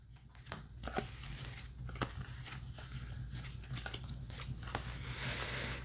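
Playing cards drawn one by one from a pre-shuffled deck during a two-player tabletop board game, giving soft, faint papery slides and light taps at a loose, uneven rhythm over a low background hum.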